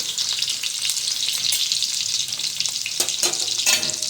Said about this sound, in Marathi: थोडासा लसूण परतून घेऊया आपण